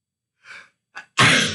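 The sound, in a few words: sneeze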